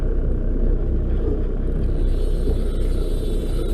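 A fishing boat's motor rumbles low and steady without pause while trolling along the coast in the harbour at Cannes, close and loud with no voices over it.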